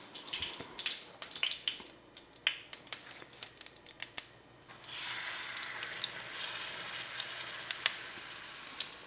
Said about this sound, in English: You can always check that by splashing some water. If you hear it sizzle,